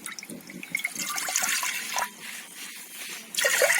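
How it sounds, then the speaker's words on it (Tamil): Strained rice water (kanji) being poured into a pot for horse gram porridge, a steady splashing liquid pour that swells again near the end, close and moderately loud with no talking. "நான் வடிச்ச வச்ச கஞ்சியை வந்து ஊற்றிக்க போகிறேன்"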